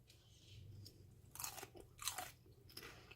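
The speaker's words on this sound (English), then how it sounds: "I'm going to take a bite of this and see what it tastes like." A bite of popcorn salad is chewed close to the mic, a few sharp crisp crunches in quick bursts over a quiet background.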